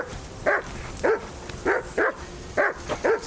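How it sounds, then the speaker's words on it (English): A dog in Kingdom Come: Deliverance 2 barks repeatedly in a steady rhythm of sharp, mid-pitched barks, about seven in three seconds, fairly close and loud against quiet game ambience, with no talking. "That barking was a pain in the ass."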